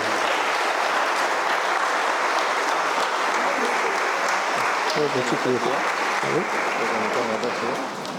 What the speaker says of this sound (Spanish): Y un aplauso para nuestro hermano Jennifer.